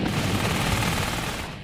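An MG-42 machine gun fires a dense, unbroken burst of extremely rapid shots, loud and close, with no voices.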